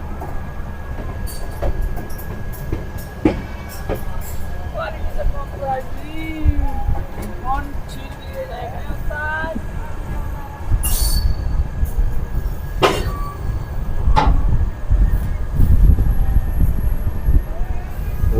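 An LHB coach of the Kotdwar–Anand Vihar Terminal Express running after leaving Najibabad, with steady low rumble, wheel clatter and intermittent squeals, loudening toward the end, with some faint voices in the background.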